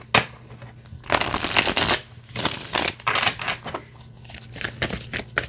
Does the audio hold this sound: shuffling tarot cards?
yes